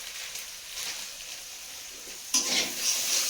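Sugar hitting hot oil in a pan, a steady hiss of frying that jumps into a louder, brighter sizzle partway through, close and without talk.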